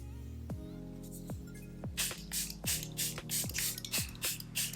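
Short hissing bursts of a Charlotte Tilbury Airbrush Flawless Setting Spray bottle misting, about seven quick puffs in a row, close and fairly soft over a low background hum.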